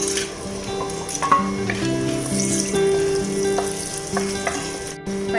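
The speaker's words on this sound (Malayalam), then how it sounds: "ഇനി നമുക്ക് ഇതിലേക്ക് ആവശ്യമുള്ള സ്പൈസസ് ഇട്ട് കൊടുക്കാം." Spices fry in hot coconut oil in a clay pot, a dense steady sizzle with occasional crackles and stirring scrapes, close and continuous with no voices.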